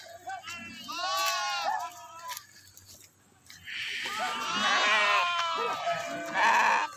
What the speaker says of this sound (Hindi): सारे के सारे भेड़ एक जब जाने लगते हैं तो सब कोई